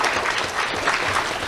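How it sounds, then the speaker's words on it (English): A brief, steady patch of audience applause at a sheriff's office awards ceremony, honoring a civilian support unit, with dense clapping and no speech. "let's have a round of applause for our civilian support unit."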